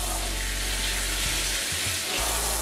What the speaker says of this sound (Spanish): Lo primero que vamos a hacer es echar agua caliente del grifo en una palangana.